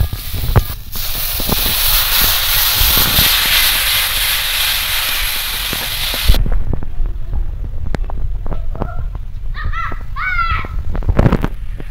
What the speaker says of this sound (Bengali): এবার মশলাটা একদম ভালো করে কষিয়ে নেব।